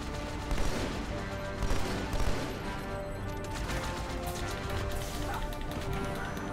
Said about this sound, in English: Stop shooting it! Friendly fire!